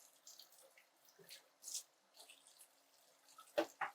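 A kitchen tap runs briefly to rinse a spoon after cooking turkey chili, with faint, intermittent splashes and trickles and a couple of louder gushes toward the end, nearby but quiet, with no speech.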